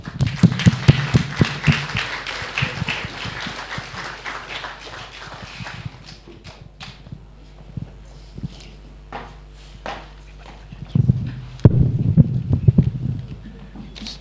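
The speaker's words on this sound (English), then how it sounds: "Good to get a round of applause before you even start" Audience applause at a veterans' event, a burst of clapping from a crowd that rises loudly, thins into scattered claps, then swells again near the end.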